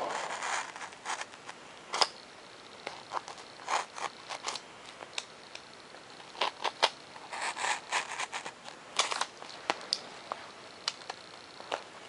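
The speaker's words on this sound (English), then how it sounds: "I'll go ahead and cut out for the servo." Foam board is cut out for a servo on a profile 3D model plane, giving a scatter of short crisp scratchy cuts and snips at irregular intervals, close and fairly quiet, with no talking.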